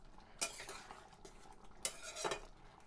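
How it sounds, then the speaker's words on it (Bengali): A spoon stirring chana paneer curry in a pot, with a few distinct metallic scrapes and clanks over a faint background sizzle, quiet overall. "এবার একটু ঘেঁটে নেব।"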